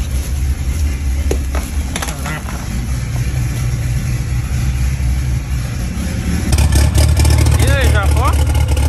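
A car engine runs nearby with a low, steady rumble that grows louder toward the end, mixed with outdoor background noise and people talking over it.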